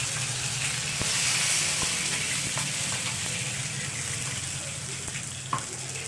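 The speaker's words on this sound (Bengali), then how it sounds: "আদা রসুনের পেস্টটা একটু নাড়াচাড়া করতে হবে।" Ginger-garlic paste sizzles steadily in hot oil in a wok, a continuous bright frying hiss with faint scrapes and clinks of stirring, close and fairly loud throughout.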